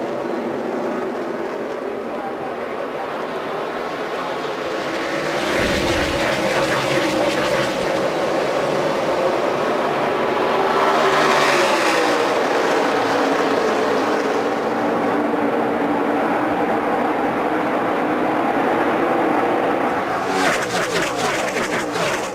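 NASCAR stock cars at Texas resume green flag racing, a dense roaring pack of engines swelling as cars pass by, loud and continuous with whooshing passes around the middle and end.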